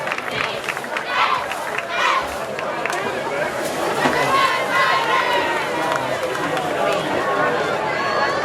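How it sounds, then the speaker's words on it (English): Crowd at a high school football game applauding the Concord Police Department, a broad wash of clapping and cheering mixed with crowd chatter, sustained across the stretch at fairly close range. "let's give the Concord Police Department a round of applause"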